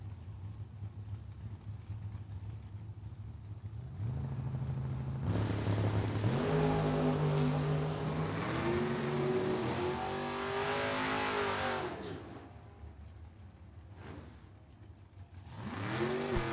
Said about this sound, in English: AJ Selleck's Beretta in right-hand lane.